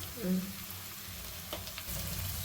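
Onions frying in a pan, a soft, steady sizzle heard close up at low level, with a few faint stirring scrapes partway through.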